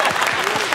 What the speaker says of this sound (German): Guck mal, wir kriegen sogar Applaus dafür.